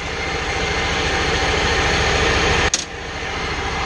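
A Ferris riding mower with a Hydro Gear transaxle runs steadily while air is worked out of the fresh transmission oil, giving a close, constant engine drone with a short clunk near the end.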